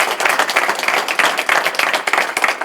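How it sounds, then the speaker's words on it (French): Audience at a ceremony breaking into brisk, dense applause, many hands clapping at once in a steady close burst with no talk over it. "Il faut l'applaudir aussi"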